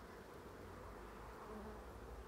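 Honey bees buzz steadily at an opened hive during a frame inspection, a dense, even drone that is soft but constant throughout with no voices.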